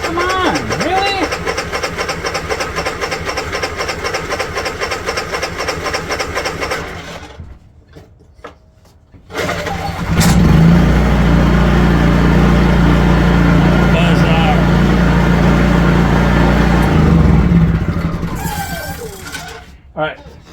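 A Honda EU3000is generator in rough shape is started with no choke. A steady mechanical running sound stops, and after a brief near-silence the engine catches and runs loud and close, then cuts out near the end.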